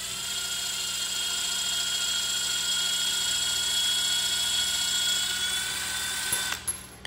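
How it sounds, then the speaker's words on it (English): A cordless drill with a Wera Impaktor 1/4-inch magnetic bit extender holding a screw spins steadily at speed one, giving a close, sustained high whine for about six seconds before a brief rattle and clatter at the end. "I'm gonna go through the different speeds here on my drill and just see when the screw falls off"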